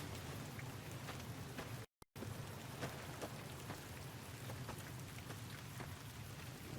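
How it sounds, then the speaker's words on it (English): Steady rain falls in a Fallout video game, a dense, continuous patter of drops with a brief total dropout near two seconds before the downpour resumes. "We got rain, although we got it a little bit later."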